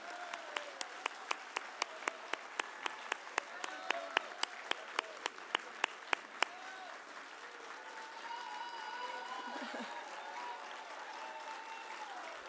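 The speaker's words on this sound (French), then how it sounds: "Maintenant, OK, on va les applaudir." Audience applause at a Collège Boréal graduation ceremony in Sudbury: a run of sharp single claps at first, then sustained crowd clapping filling the hall, moderately loud and steady.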